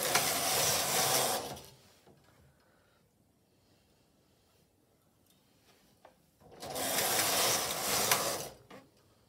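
A Silver Reed standard gauge knitting machine carriage sweeps across a row, a loud mechanical clattering rasp lasting about two seconds, then a quiet pause with small clicks, then another full pass.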